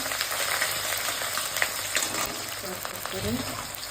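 Garlic frying in oil with bay leaf and dried red chilli for ghugni, a steady close crackling sizzle with occasional stirring scrapes, and a voice speaking faintly underneath.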